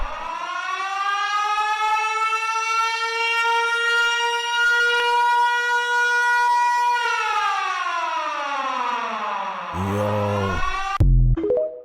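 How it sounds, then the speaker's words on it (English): A loud civil defense siren wails steadily with rich harmonics, then winds down near the end as its pitch drops, followed by a brief clatter. "imagine hearing that siren. That would haunt you."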